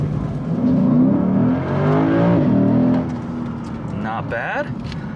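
A Lexus IS500 F-Sport V8 engine roars as it launches hard from a stop on cold pavement, pitch climbing through the revs, then a brief shift and renewed acceleration.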